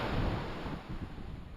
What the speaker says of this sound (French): écouter les vagues